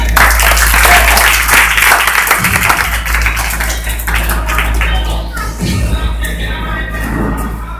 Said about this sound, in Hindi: एक बार गौतम बुद्ध के लिए जोरदार तालियां